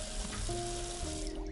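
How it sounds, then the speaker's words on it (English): Tap water runs steadily from a faucet into a sink in a video game, a continuous close splashing stream with a faint musical tone underneath. "You're wasting water, Finn."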